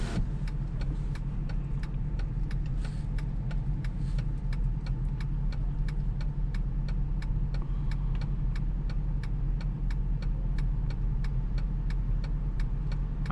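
Dodge Charger R/T on a city street, a steady low engine and road hum heard from inside the cabin with a faint regular ticking over it, continuous and unbroken.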